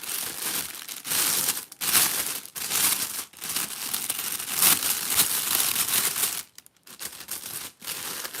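Gift wrapping paper for a Christmas basket is crinkled and twisted by hand close up, loud crackling bursts in bursts with brief pauses, no speech.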